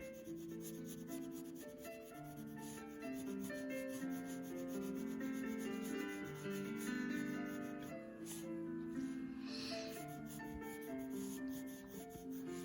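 A Prismacolor colored pencil shades across paper in a steady, soft, continuous rubbing scratch, close and faint, with no talking.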